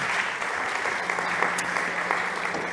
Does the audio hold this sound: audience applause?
yes